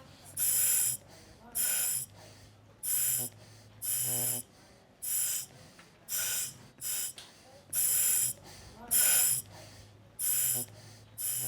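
Slow, deep breaths from a patient in a busy hospital emergency department, a steady run of about a dozen loud, hissing inhales and exhales in regular rhythm, close to the microphone, with faint low murmuring between them.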